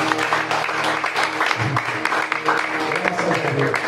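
Church congregation applauding during a worship service, a steady mass of clapping running throughout with a voice speaking over it.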